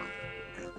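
A sheep bleats in a TerraFarmaCraft Minecraft modpack world, one short wavering game-sound bleat sitting over soft steady background music.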